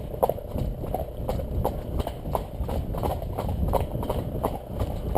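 Hooves of a ridden horse clip-clop in a steady, even walking rhythm outdoors on a road, moderately close, over a low background rumble, with no talk.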